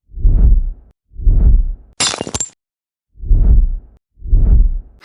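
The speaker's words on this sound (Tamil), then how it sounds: "2-3 ஓடு உடைஞ்சு கிடக்கு" Roof tiles fall and smash in one sharp, bright crash, set between four repeated low booming bursts in an animated domestic scene.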